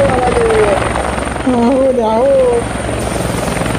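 Helicopter passing overhead amid cloudburst flood chaos, a steady loud rotor drone running throughout while excited voices shout and talk over it.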